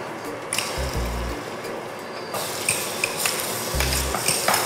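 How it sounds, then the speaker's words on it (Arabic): Meat frying together with onion and garlic in a pan, a close, steady sizzle broken by stirring scrapes and a couple of dull low knocks, with no talking. "تو نزيد اللحم مع البصل والثوم يتقلوا مع بعضهم"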